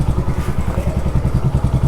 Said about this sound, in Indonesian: pada saat dinyalakan motor bisa nyala normal, nggak ada masalah